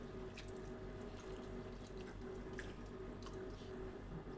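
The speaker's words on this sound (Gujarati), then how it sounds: "પૌવાને આપણે સારી રીતે ધોઈ લેવાના છે।" Flattened rice (poha) is washed in water, with continuous running, splashing water and a few drips close by, at a quiet, even level and without speech.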